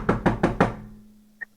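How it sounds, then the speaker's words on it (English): Four firm knocks on a door in an even, quick rhythm, close and clear, followed by a quiet pause and a faint brief click. "And then they knock on my door."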